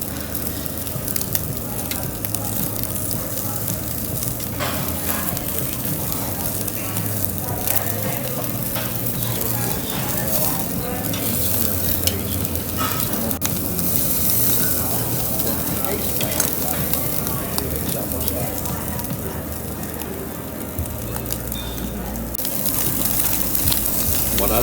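Tomahawk steak cooking over an open fire on a Korean yakiniku grill, giving a loud, continuous sizzle and rushing crackle throughout with murmured talk in the background.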